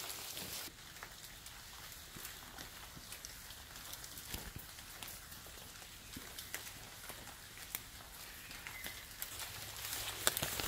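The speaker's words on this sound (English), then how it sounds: "it's still raining softly" Soft, steady rain in Ethiopia pattering on surfaces, with scattered brighter drips and ticks against a quiet background hiss.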